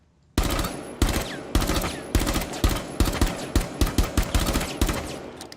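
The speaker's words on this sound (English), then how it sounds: "I'm firing usually between 2 and 1 burst shots" Rifle fire in Rainbow Six Siege snaps out in quick, controlled bursts of one or two shots, loud and close, repeating in a steady rhythm with brief gaps between each trigger pull.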